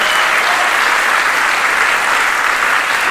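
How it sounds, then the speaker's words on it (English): Audience applause at a sold-out crypto event, a dense steady wash of clapping from a large crowd, loud and sustained throughout with no voices on top. "Give a big round of applause."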